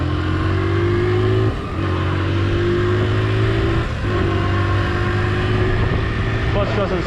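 1983 Honda XL100 motorcycle revving hard and accelerating, a loud close engine note climbing in pitch through several gear changes with brief dips between shifts.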